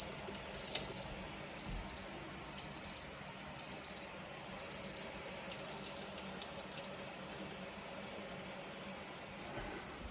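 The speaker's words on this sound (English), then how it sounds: "That's why it's beeping, because it's up to temperature." A home canner full of jars of blackberry jelly beeps after reaching temperature, a series of short, high electronic beeps in paired groups, repeating at an even pace over a quiet room hum.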